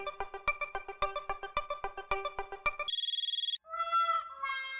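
A phone ringtone plays in a Hindi TV comedy scene, a rapid repeating electronic melody, then shifts into bright trilling tones and a short ring pattern, loud and close.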